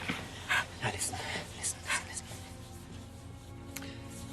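A dog pants and whimpers in short breathy bursts, fairly close, with a low steady background hum and someone talking over it.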